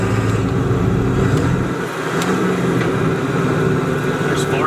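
A 7.3L Powerstroke diesel truck with a motorcycle-style throttle runs steadily at close range, its engine note dipping briefly as it shifts into fourth gear, with someone talking over it.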